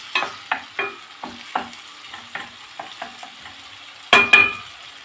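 Tomatoes and onions sautéing in a pan on the stove, with a soft sizzle under a series of scraping stirs from a utensil, quiet and close, ending in two louder clanks.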